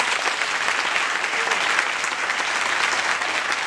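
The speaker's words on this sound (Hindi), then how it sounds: "ताली बजाएंगे जोर से।" An audience at a church meeting applauds loudly, a dense and continuous wash of clapping from many hands that holds steady throughout.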